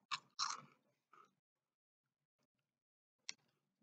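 A smoky bacon-flavoured snack crunches sharply at the first bites, loud and close, followed by softer chewing, near silence and one last crisp crunch.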